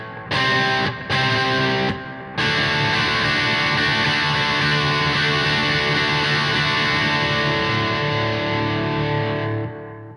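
Distorted electric guitar strumming the chorus chords of a song in a down, down, up, down, up pattern, loud and dense, with a few brief choppy stops early on before a long ringing run, no voices.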